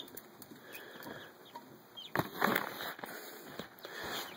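Chickens and a rooster clucking and squawking in a farmyard flock, scattered calls over steady background birdsong with a busier, louder burst of fowl noise partway through, no talking.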